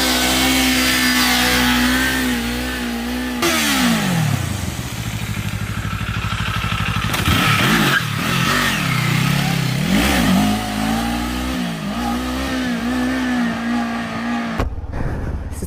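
A small motorcycle engine, a toy-like little bike, revs steadily and loud with rising and falling pitch sweeps as the throttle opens and closes, up close with no talking.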